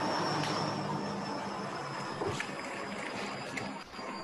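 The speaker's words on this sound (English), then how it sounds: "that's the washing machine" A household washing machine runs steadily in the background, a continuous broadband roar like a distant jet that holds level throughout the clip, with a faint high tone above it.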